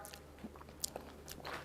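Someone chews a bite of ranch potato salad, making soft, close, wet crunching and mouth sounds for a second or two, faint against a quiet background.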